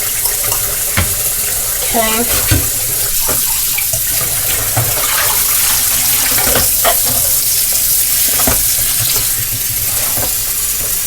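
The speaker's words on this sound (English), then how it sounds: "first let me just wash this knife, because this is the knife that I am going to need." A kitchen tap runs loudly and steadily into a sink while a knife is rinsed under it, with clattering and splashing on top of the broadband rush of water, and one brief spoken word.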